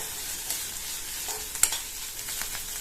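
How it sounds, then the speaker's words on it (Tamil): Ginger-garlic paste being sautéed in a pan for an idli kurma side dish, a soft continuous sizzle with repeated spatula stirs and scrapes, one sharper clink midway. "சேர்த்து இந்த இஞ்சி பூண்டோட பச்சை வாசனை போற அளவுக்கு 1 நிமிஷத்துக்கு நல்லா வதக்கிக்கலாம்"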